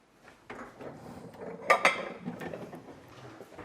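Plates and dishes are handled in a home kitchen while chicken parmigiana is breaded, with a few close clattering knocks and a sharp double clink in the middle, alone without talk.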